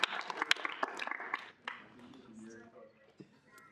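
A small student senate gathering gives the interns a brief round of applause: a handful of sharp, scattered claps for about a second and a half, then the room settles into quieter murmuring and faint talk.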